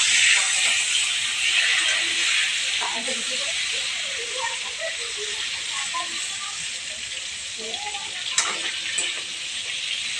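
Slices of pointed gourd (potol) fry in a pan with a steady, broad sizzle that runs the whole way through, with faint clinks and stirring underneath and a brief sharper tap near the end.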